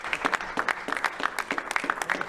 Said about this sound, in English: they're applauding the fact that he was able to carry out a phone call